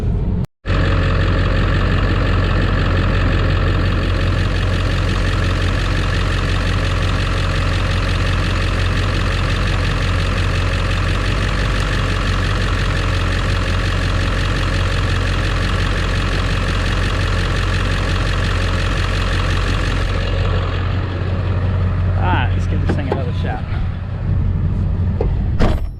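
A 7.3 Powerstroke diesel in a '99–'03 Ford truck with a 4R100 transmission idles loudly and steadily with its alternator unplugged, a deep rumbling drone with a ticking knock, then a few clicks and clatters near the end.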